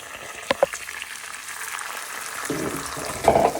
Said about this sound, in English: Like I said, it'll start to sizzle.